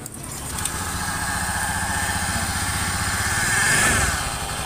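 A motorcycle engine idling steadily up close, with a continuous rough mechanical whir and rattle from a worn, damaged crankshaft bearing, and no one speaking.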